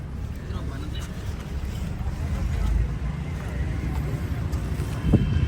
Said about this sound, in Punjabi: ਹਵਾ ਚੱਲ ਰਹੀ ਹੈ ਤੇ ਜਿਹੜਾ ਨਾ ਉਹਨੇ ਤਾਂ ਉੱਡ ਜਾਣਾ